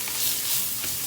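Lightly caramelized onions with ginger and garlic fry in a pan, a dense, close sizzle that swells slightly as they are stirred, brief and continuous with no speech.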